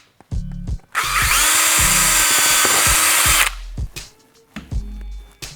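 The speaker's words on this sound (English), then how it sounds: "you just need to drill it out to the 1/2 inch size and you're good to go" A power drill bores out a 1/2 inch hole with a uni bit, revving up in a loud sustained whine for about two and a half seconds, bracketed by short clunks and handling noises.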